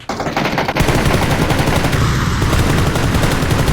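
Automatic gunfire in the video game PUBG, sounding as a loud, rapid, continuous stream of shots that starts after a short pause and keeps firing without break to the end.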